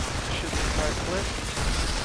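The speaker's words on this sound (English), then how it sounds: "Shoot the entire clip." Weapons fire in Outriders, a loud, continuous burst of gunshots that runs for about two seconds without a break.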